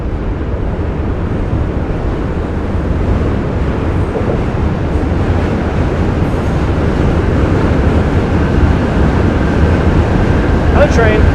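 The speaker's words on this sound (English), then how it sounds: "Another train. Hey, here's one." Loud continuous rumble of a train rolling past on a bridge between Brooklyn and Manhattan, with a steady broadband roar throughout and a voice speaking over it.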